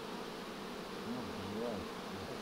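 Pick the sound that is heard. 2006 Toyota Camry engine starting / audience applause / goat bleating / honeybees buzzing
honeybees buzzing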